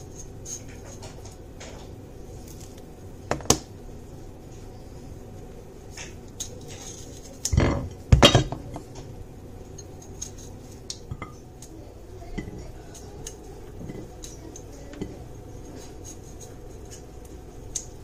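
A knife cuts aloe vera into small pieces for a hair oil, making quiet, scattered taps and clicks against a cutting surface, with one louder clattering burst partway through. No one speaks.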